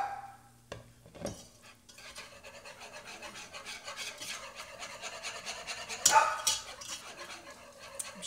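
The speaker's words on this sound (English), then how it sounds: "He's barking. My little Yorkie." A small Yorkie dog barks in a home kitchen while a pan of flour and milk is stirred, with one short, sharp bark burst standing out over the quiet scraping and rubbing of a utensil.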